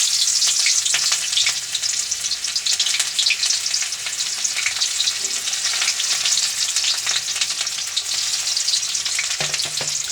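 Onions with spice paste, cumin and bay leaf fry in oil in a wok for chicken curry, a dense, close sizzle with stirring scrapes and a few clanks along the way.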